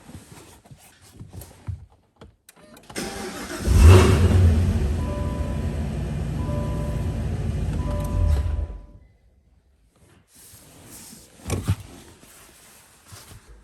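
A Cadillac CT4/CT5 V Blackwing engine starts with a loud rev, settles into a steady close idle for several seconds, then cuts off, followed by quieter rustling and a brief later burst of noise.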